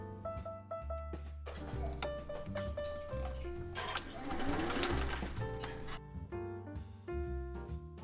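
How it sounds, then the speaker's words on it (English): A sewing machine stitches the short ends of a beret hat band into a circle, steady whirring runs in separate bursts, close but fairly quiet, with soft background music underneath. "Sew the short ends of the band piece together to make a circle."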